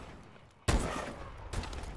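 Gunfire from a first-person shooter video game in a quick-scope match, with two sharp, loud blasts about a second apart, each followed by a short ringing decay.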